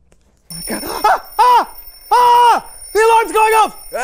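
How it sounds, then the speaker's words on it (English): A brisket cooking timer alarm goes off loudly in repeated bursts of bright ringing beeps, with a voice speaking over it. "The alarm's going off!"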